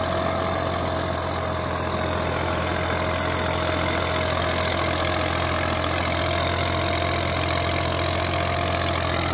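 A Massey Ferguson IMT 533 tractor runs with a two-bottom reversible plough, its engine holding a steady, loud, continuous drone throughout with no talking.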